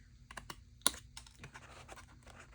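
Scissors trim a rounded corner on a sheet of paper, heard as a quiet run of small close snips and clicks with one sharper snap near the start.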